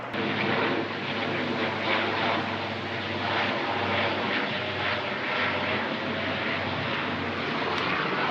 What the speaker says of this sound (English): it's just constantly planes flying in